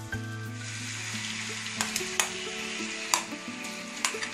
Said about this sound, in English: So now I'm going to add the grated papaya.